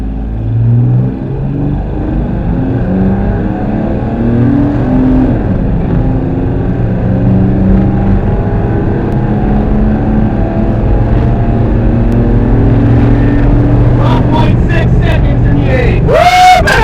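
A stock Pontiac Fiero GT accelerating hard from a standstill on an eighth-mile run, its engine a loud, continuous rising drone with climbing harmonics, close and steady, with brief sharp noises near the end.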